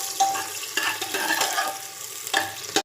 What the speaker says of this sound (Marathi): कांदा जरा भाजून घ्यायला लागले